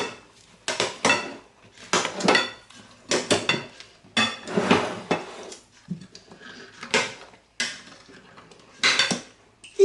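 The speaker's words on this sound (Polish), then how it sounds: "Dodajemy pokrojone wafelki i mieszamy." Chopped wafers are stirred into a setting cake mass in a bowl, producing a rhythmic series of close scraping and clinking strokes from a utensil against the dish, separated by brief pauses.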